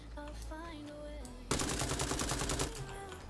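Gunfire from snipers and other enemies in a single-player Tarkov-style shooter game: after a stretch of quieter tonal sounds, a loud, rapid burst of crackling automatic shots erupts close by and rattles on for over a second before easing.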